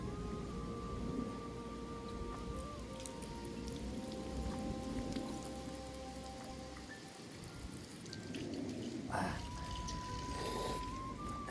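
Drinking water runs steadily from a public tap in Japan, a continuous splashing, trickling stream heard close up from start to end, with no talking over it.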